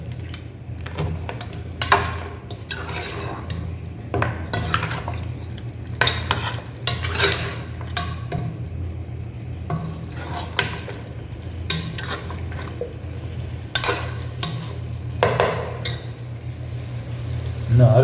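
One kilo of mutton frying in a pot for masala mutton dum biryani, stirred with a metal spoon that knocks and scrapes against the pot over a low steady sizzle, close and continuous.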